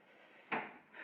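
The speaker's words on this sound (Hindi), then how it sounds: "दरवाज़ा खोलत है।" A house door opens at night with a single short wooden knock or thud, followed by a softer scrape, close by against a faint steady background hum.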